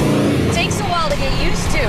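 Engine of a 1972 De Tomaso Pantera shifting into fourth gear, the revs dropping and climbing again in a loud, close rumble from inside the cabin, with people talking over it.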